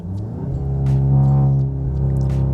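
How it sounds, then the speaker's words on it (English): VW Golf MK8 engine revving against a held brake before a launch, with launch control engaged: a droning tone climbs and holds at high revs, then settles to a steady hum. It is loud and close, with no talking. "When we're ready to launch, lay on the gas, you'll start hearing the RPMs go."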